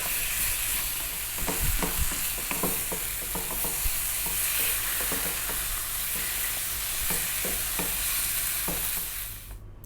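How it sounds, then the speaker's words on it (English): A sweet potato mixture is stirred in a pan, with a steady frying sizzle under repeated close scraping and tapping strokes of the spoon, ending in a brief fade. "we're going to mix this in as much as we can"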